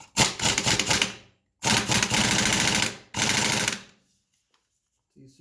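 An air impact wrench with a 17 mm socket works on a Yamaha Banshee stator job, firing three loud, close bursts of rapid hammering rattle, each over a second long, with short pauses between and silence after.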